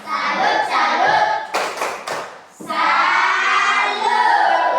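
A group performs a rhythmic salute clap, bursts of sharp claps in a patterned sequence, while voices chant loudly before and after the claps.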